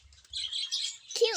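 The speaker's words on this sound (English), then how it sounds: "The yellow bird name is Cesper, and the white bird name is Snowy." Small pet birds, one yellow and one white, chirp in quick, high, twittering bursts that run together, with a sharper call near the end, close by and fairly clear.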